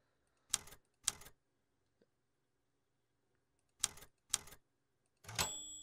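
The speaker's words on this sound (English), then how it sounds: "That's a typewriter." A typewriter clacks in short bursts: two quick double strikes, a long pause, another pair, then a final key run ending in a ringing bell-like tone, close and otherwise quiet.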